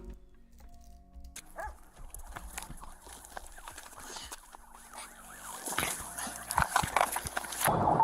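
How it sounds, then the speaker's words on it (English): A dog barks in police body cam footage, short yaps rising over rustling movement and faint voices, growing louder and busier toward the end. "Oh, we got a doggy."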